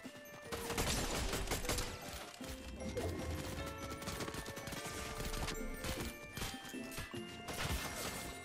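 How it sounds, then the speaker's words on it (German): Video game gunfire rattles steadily through a busy mix of in-game sound, with dense shots and impacts and a few lulls across about eight seconds. "da hinten schießt noch jemand"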